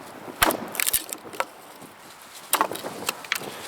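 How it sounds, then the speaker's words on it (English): A full-height Scandi dual-convex axe chops cold, brittle wood, which shatters rather than cutting cleanly. Sharp cracking impacts with splintering crackle come in two close clusters, separated by a quieter pause. "the wood is shattering a bit, not being cleanly cut"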